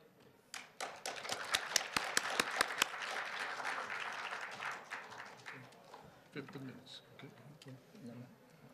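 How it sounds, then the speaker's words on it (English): An audience at an international symposium and debate applauds to welcome a speaker from the UN-mandated University for Peace, a burst of dense clapping with sharp hand claps up front that thins toward the end, with some voices underneath. "Would you like to welcome him with a big applaud?"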